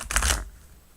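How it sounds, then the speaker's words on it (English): A regular deck of playing cards being shuffled, one brief riffling burst close by lasting under half a second, then fading, with no talking. "So I shuffle a regular playing card deck"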